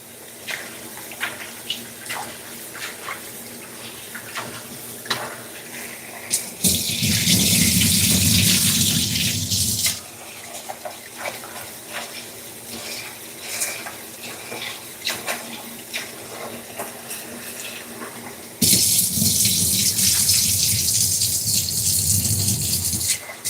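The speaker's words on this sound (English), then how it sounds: "Gonna do that a couple times to wash off the starches off my rice" Rice in a pot is rinsed under a running kitchen tap to wash off the starch, two loud bursts of gushing water with quieter clinks and handling between them.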